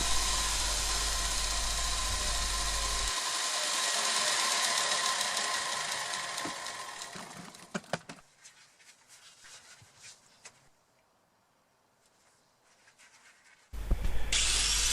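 Steel being ground against a taped straight-edge guide: a loud continuous abrasive grinder whine for several seconds that fades and cuts off, leaving a quiet gap and light handling noises before the grinding noise briefly starts again.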